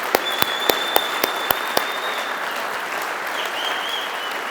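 Convention keynote audience applauding: sustained, fairly loud applause from a large crowd fills the hall, with a few sharper individual claps early on and a faint tonal hum underneath.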